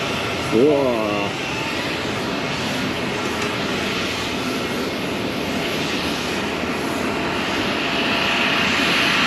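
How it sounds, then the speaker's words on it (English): Airplanes at London Heathrow heard from outside an airport lounge, a loud continuous jet engine roar that holds steady throughout, with a brief excited exclamation near the start. "I'm taking you outside to see the planes."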